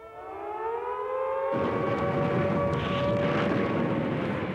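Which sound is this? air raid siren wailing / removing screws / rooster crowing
air raid siren wailing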